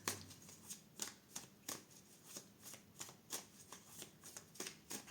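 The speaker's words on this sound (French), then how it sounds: "on va aller voir avec le tarot" Tarot cards are shuffled close up in quiet rhythmic bursts, soft papery riffles repeating about twice a second with no talk over them.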